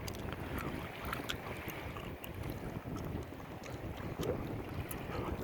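A boat passing on open water, heard as a steady, faint wash of engine and water noise mixed with wind buffeting the microphone, with no talking.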